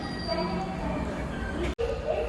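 Steady hum of a busy railway platform at Vijayawada station with rumbling trains and a distant murmur, broken by one brief dropout near the end.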